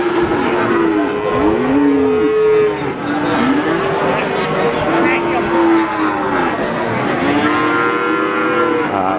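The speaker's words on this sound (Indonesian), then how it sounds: "Nah, ini ada sapi bibitan." Feeder cattle at a livestock market moo repeatedly, several loud close calls rising and falling one after another over a busy crowd murmur, with people talking nearby.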